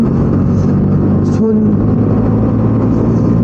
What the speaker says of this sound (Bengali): ওদেরকে কভার করার জন্য আমি একটু গাড়িটা জড়ি চালাচ্ছি